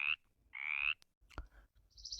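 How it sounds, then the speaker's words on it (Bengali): A frog gives two rasping croaks close by, each under a second long. A shorter, thinner call follows, with small clicks in between. "ব্যাঙ।"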